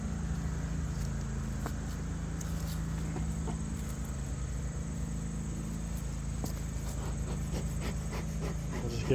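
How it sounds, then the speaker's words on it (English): Bees drone steadily at an opened hive in the fall, a continuous low buzz with faint scattered ticks and rustles. No one talks. "Oh yeah, there's some bees up there."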